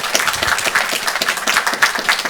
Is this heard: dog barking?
no